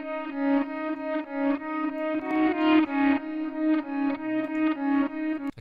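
Electric guitar chords played through a 47 millisecond stereo delay, repeated rhythmic strums with a slightly doubled, thickened sustain, clean and upfront with no voices.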